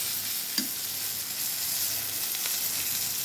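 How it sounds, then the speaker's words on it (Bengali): Eggplant slices frying in oil, a continuous close bright sizzle with one brief clink of utensil early on and no voices. "তো আমার বেগুন ভাজিগুলো প্রায় শেষ।"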